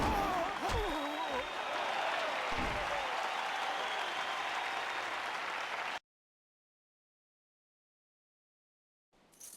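Crowd applause and cheering in the video game Jade Empire, a dense, steady roar of clapping that runs for about six seconds and then cuts off abruptly into silence.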